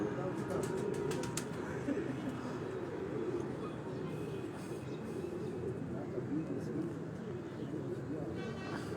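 Pigeons flapping their wings as they fly up outdoors, a quick burst of flutters near the start that fades into a steady noisy background with faint murmuring voices.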